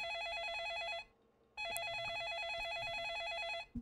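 An old telephone rings inside a Roblox video game, two long electronic trilling bursts separated by a short gap, clear and steady with faint background noise.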